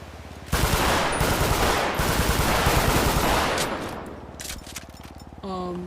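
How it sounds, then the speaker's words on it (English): Rapid gunfire from an AP pistol in a FiveM sound pack for a video game, a loud sustained burst of shots lasting several seconds, then tapering off. "The combat pistol. And then we got the AP."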